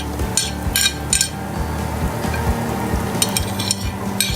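Chopped garlic sizzling in a pan with golden onions for pav bhaji street food, a steady frying hiss under repeated metallic clinks and scrapes of a spatula against the pan, close and moderately loud.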